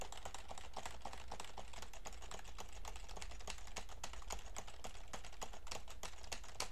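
Rapid, steady clicking of computer keyboard keys, close and fairly quiet, with no voices.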